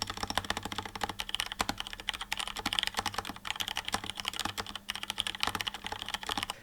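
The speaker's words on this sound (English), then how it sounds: "once you feel how nice a proper typing mechanical keyboard is compared to a traditional cheapo keyboard" Rapid clacking of keys on a mechanical keyboard, a steady flurry of crisp clicks close by with no voices.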